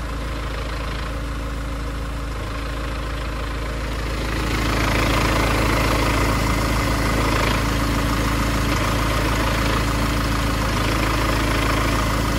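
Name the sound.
Mercedes A180 CDI clutch noise while idling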